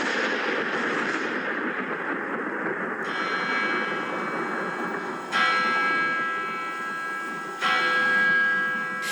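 A church bell in a stage musical strikes twice, each a loud, ringing clang that hangs and slowly fades, following a stretch of rumbling crowd-like noise.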